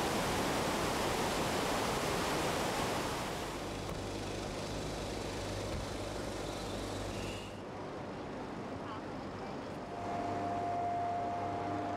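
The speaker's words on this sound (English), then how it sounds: "Outlets in the middle allow 116 cubic meters of water to flow in a second over the dam wall." Water roars steadily over the wall of the Three Gorges Dam as a broad, loud rush of flow, easing slightly partway through and carrying on to the end.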